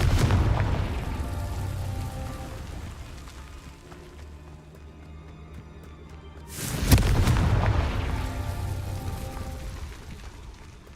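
Blasting-spell explosions from the video game Hogwarts Legacy, a booming blast that fades out followed by a second loud burst near the middle, each one trailing into a rumbling, crackling decay.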